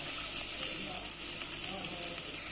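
Onions frying until golden in a pan for a raw plantain stir-fry, a steady bright hissing sizzle, continuous and close at moderate loudness.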